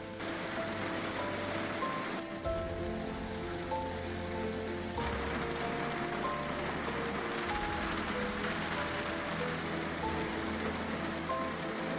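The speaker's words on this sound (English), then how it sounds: "No sign of this rain stopping." Steady rainfall during a GT3 race at Spa in a racing video game, a constant hiss of drops hitting surfaces with a low engine drone and faint tonal sounds underneath.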